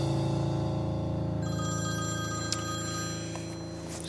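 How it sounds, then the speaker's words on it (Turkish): A telephone rings in a Turkish TV drama, a continuous electronic warbling ring that carries on steadily and grows slightly fainter toward the end, with no voices over it. "Siz özelinizi konuşurken ben şu telefonlara bakayım. Çok telefon geliyor."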